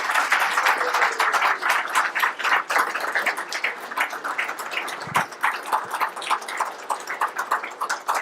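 An audience applauds Dr. McConnell at a McConnell Day 2016 gathering, with many hands clapping in a brisk, continuous patter that holds at an even level throughout, alone without speech.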